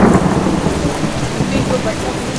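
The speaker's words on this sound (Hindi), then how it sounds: "बाहर कितनी बारिश हो रही है" Heavy rain pours steadily outside a small house during a thunderstorm, with a deep thunder rumble rolling underneath the dense, continuous hiss of the downpour, loud and close throughout.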